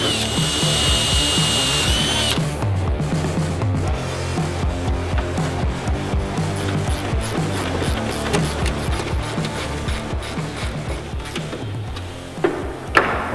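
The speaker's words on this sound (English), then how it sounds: "This just goes in like this and drill your holes." A power drill whines at high speed for a couple of seconds while drilling holes to fit a JBA Dominator GTC wide body kit, then gives way to clattering and mechanical rattling with a few sharp knocks.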